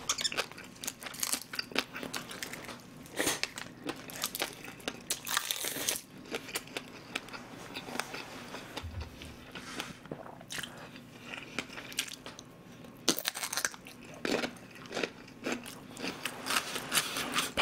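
Close, steady chewing and crunchy biting of tteokgalbi (grilled short-rib patties) and a breaded pork loin cutlet during a mukbang, with repeated wet, crisp bites and no talking.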